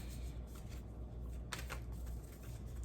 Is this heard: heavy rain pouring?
no